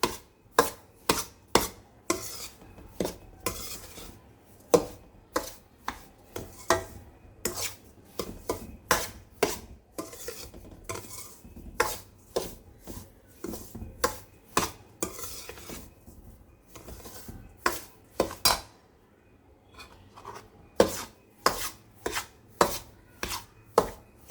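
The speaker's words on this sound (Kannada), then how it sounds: "ಅದನ್ನು ಸ್ವಲ್ಪ ಈ ಥರ ಚೆನ್ನಾಗಿ ಮಿಕ್ಸ್ ಮಾಡ್ಕೊಳ್ಳಿ ರವೆ ಜೊತೆ. ಹಾಗೆ ಒಂದೆರಡು ನಿಮಿಷ ಹುರ್ಕೊಳ್ಳಿ" Semolina (rava) mixed with grated coconut, stirred and roasted in a pan for jaggery rava laddoo: close, rhythmic scraping and tapping strokes of a spoon against the pan, evenly spaced with short pauses, with no talking.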